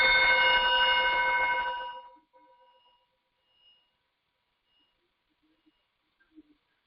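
A singing bowl rings with a steady, harmonic Om-like drone that stays loud for about two seconds, then fades quickly into a faint lingering tail, followed by near silence and a few small distant clicks.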